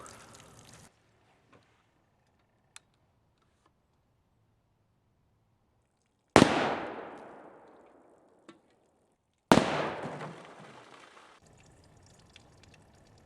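A .22-250 rifle firing Hornady 50 gr GMX bullets outdoors: two loud, sharp cracks a few seconds apart, each trailing a long echoing rumble, with near-silence before and between them.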